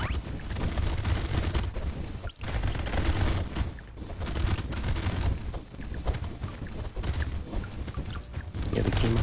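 Many miniguns fire at once in the top-down arena game Brotato, a dense, continuous roar of rapid gunfire that stays loud and crowded throughout with no pauses.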